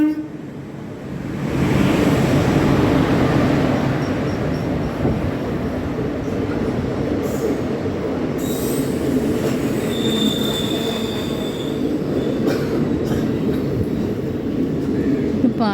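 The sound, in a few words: Palaruvi Express passenger train arriving at station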